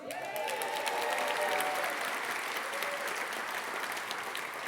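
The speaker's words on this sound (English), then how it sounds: "I don't want anybody to say that she got more applause than the governor." A crowd at the Maui County State of the County address applauds Hawaii's Lieutenant Governor. The clapping is sustained and even, heard from a distance in a large room, with a few voices underneath.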